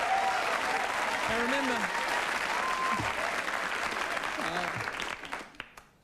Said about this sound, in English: easy on the clapping, guys